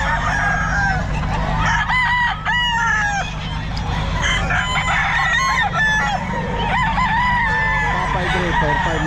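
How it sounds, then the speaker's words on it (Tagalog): Hatch and hennie chickens and roosters on a farm crow and cluck together, several overlapping calls close by over a steady background murmur. "Ayan mga manok niya."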